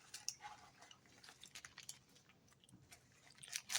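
Someone chews a crunchy sandwich of bun, dripping sauce and onion, giving quiet, close, irregular crunching and wet mastication sounds with small clicks, and no talk.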